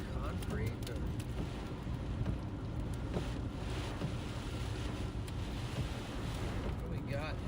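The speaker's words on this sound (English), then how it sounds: "Got a lot of wind here." Strong wind buffets the microphone in a steady, loud roar from a vehicle driving through rain and fog, broadband rumble filling the whole stretch with no gaps.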